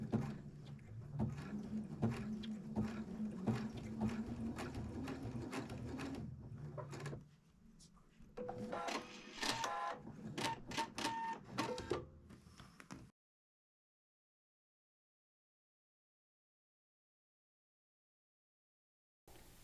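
A sewing machine stitches buttonholes in rapid, rhythmic mechanical clattering bursts, close and fairly loud, for about thirteen seconds before stopping into near silence.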